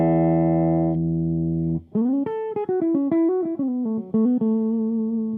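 A Fender Player Plus Stratocaster HSS plays through its bridge pickup with the tone knob in use: a sustained chord, then a quick run of single picked notes, clean and close with no talk.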